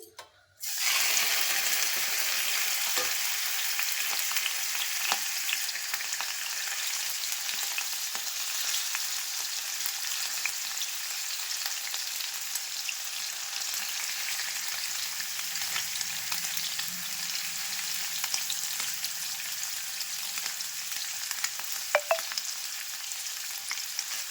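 Paneer pieces drop into hot oil in a pan and fry, beginning with a sharp splash-like burst and then a steady, close, loud sizzling hiss that continues throughout with faint occasional stirring clicks.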